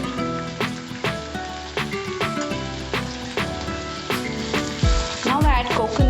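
Kalakai (karonda) rice mixture frying in a pan, a steady close sizzle with periodic stirring scrapes and clinks running throughout, fairly loud and with no voices.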